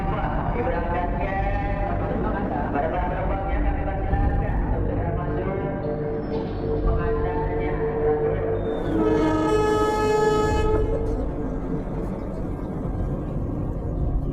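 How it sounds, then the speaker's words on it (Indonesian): A train in Indonesia rumbles along steadily while its horn sounds in several long, loud blasts, with voices faintly under the rolling noise. "kami pun berangkat dengan kereta api."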